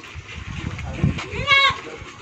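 A goat bleats once near the end, a short wavering cry heard close by over background talk and outdoor bustle.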